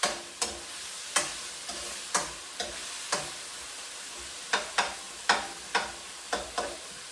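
Beef for a celery stir fry sizzles in a pan while being stirred and turned, with a series of sharp, irregular scraping clacks over a soft background sizzle, close and clear.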